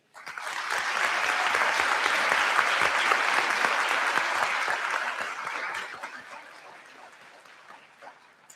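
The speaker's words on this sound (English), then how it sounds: "I invite you to join me in giving them a round of heartfelt applause" A large commencement crowd applauds for a college team, swelling quickly into sustained clapping that fades after about six seconds to scattered claps.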